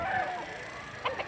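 Chickens and roosters at a poultry market in Lipa, Batangas give scattered clucks and short calls over a murmuring background, nearby and moderately loud.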